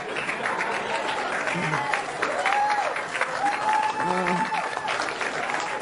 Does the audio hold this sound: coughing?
no